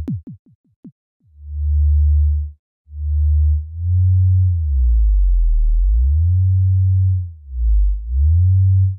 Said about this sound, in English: that way you can generate the sine wave without adding the kick on top